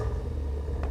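Truck engine turning over in the off-road driving game Snowrunner, a steady low rumble that rises briefly near the end, heard close and alone.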